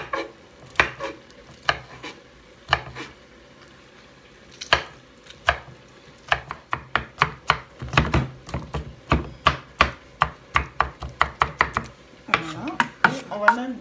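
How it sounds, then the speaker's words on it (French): Sharp knife chops on a cutting board while okra is sliced, sparse single cuts at first, then a quick steady rhythm of close, crisp thuds, with faint background hum. "Là, on va couper le gombo qu'on va mettre dans le légume."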